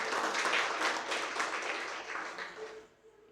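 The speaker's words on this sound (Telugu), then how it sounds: "అసలు గట్టిగా చప్పట్లు కొడదాం." Congregation applauding loudly at a festival mass for the Infant Jesus feast, a dense wash of many hands clapping together that gradually thins and fades out toward the end.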